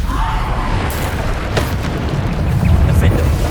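A Bombarda spell explodes in Hogwarts Legacy, a loud booming blast with rumbling bursts amid continuous game noise, and a voice speaks briefly over it.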